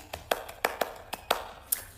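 Hands clapping in a handful of separate, uneven claps spaced across a couple of seconds, quiet and a little distant, with no voices over them.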